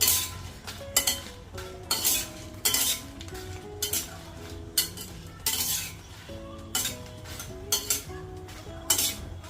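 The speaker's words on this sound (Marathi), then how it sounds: "दोन टेबलस्पून तेल घालते स्लो फ्लेमवर मिरच्या छान तळून घेते" Green chillies fried in two tablespoons of oil over a slow flame while a utensil stirs and clinks against the pan in repeated bursts, with music playing underneath.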